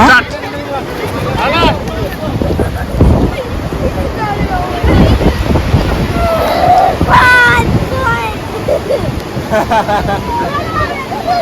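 Water from Takakkaw Falls roars steadily under strong gusting wind buffeting the microphone, loud and close, while people's voices chatter in the background.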